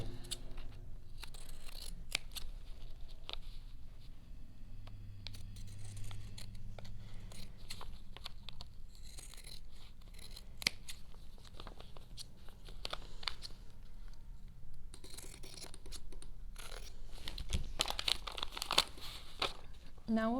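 Scissors trim a pieced fabric hexagon for a pincushion: repeated crisp snips with faint fabric rustle, close and quiet, in an uneven run across the whole stretch.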